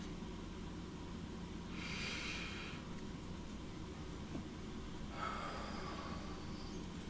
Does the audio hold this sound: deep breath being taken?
yes